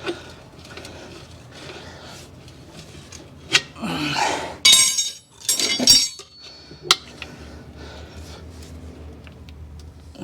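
Small metal baby spoons clink and rattle as they are picked up and sorted, bright scattered chinks and scraping in a few bursts over a quiet background.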